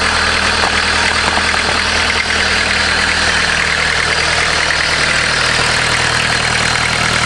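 A VW diesel engine newly installed in a caravan idles steadily and close by, a continuous loud, even clatter and rumble with no pauses.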